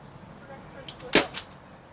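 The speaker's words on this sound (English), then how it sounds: "you can hear me pulling the trigger, you can hear the slide pushing the pellet into the barrel" A Crosman 1077 air rifle fitted with a silencer fires once: a few faint mechanical clicks of the trigger and slide, then one sharp, muffled pop with a short follow-up snap, close by in a quiet room.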